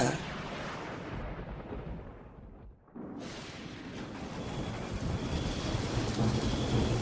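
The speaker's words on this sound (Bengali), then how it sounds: "আকাশ থেকে আবারও বৃষ্টি নামল। এই বৃষ্টি যেন সাধারণ বৃষ্টি নয়, মুষলধারে বৃষ্টি নেমেছে।" A torrential night downpour with thunder, a dense roaring wash of rain and deep rumbles. It drops away almost to silence for a moment midway, then surges back and builds louder to the end.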